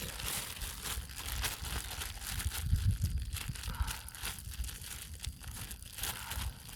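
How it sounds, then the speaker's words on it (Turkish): Continuous crinkling and crunching of plastic as desert truffles inside a bag are pressed and crushed, close up and fairly quiet. "Kümeleri poşetin içerisine koyup hepsini eziyoruz."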